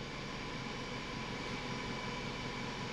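A car engine idles smoothly and evenly once warmed up, with no stumbling or shaking, after earlier trouble with jerking, rough running, power loss and body vibration. The steady hum is close and continuous, with no speech.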